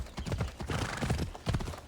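Horse hooves clip-clopping in the video game Assassin's Creed Odyssey, a quick regular run of close, loud hoofbeats with a steady galloping rhythm.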